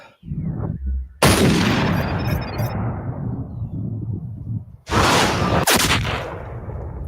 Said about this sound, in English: when you're hunting with a bolt action like this, you really only get one shot